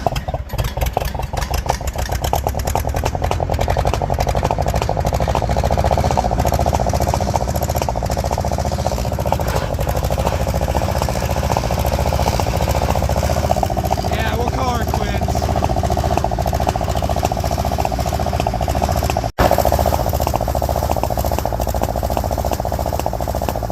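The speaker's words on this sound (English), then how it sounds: "you can definitely tell the timing's off if you watch the air cleaner intake, because it's literally backfiring back out the intake and lifting it up and down" A Farmall H tractor engine runs continuously with its ignition timing off, chuffing and popping as it backfires out the air cleaner intake; a loud, steady engine drone fills the clip while someone talks over it.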